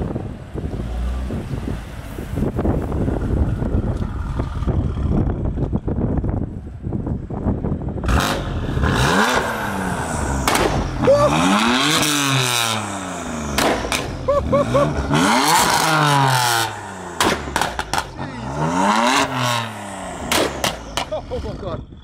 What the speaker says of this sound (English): rev her up and show you what it's made of